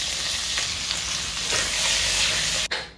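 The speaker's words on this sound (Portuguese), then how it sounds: "Manteiga, um pouco de azeite e com a panela bem quente." Octopus fries in butter and olive oil in a very hot pan, giving a loud, steady sizzle with occasional stirring scrapes and a brief dip near the end.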